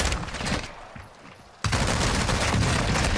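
Hip-fire gunfire in a video game, with dense rapid bursts of shots that drop away briefly and then resume as a loud, continuous fusillade, close and dominant with no speech.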